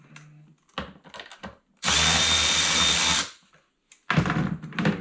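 A power tool, likely a drill driver, loosens hose clamps on a Dodge Caravan 3.6 L oil filter housing, with a loud, steady whir lasting about a second and a half between short clicks and ratcheting sounds.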